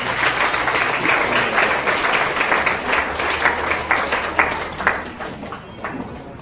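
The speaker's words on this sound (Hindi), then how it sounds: "ताली बजाओ उसकी ताली।" Church congregation applauding together, a dense sustained patter of many hands clapping that thins and fades toward the end.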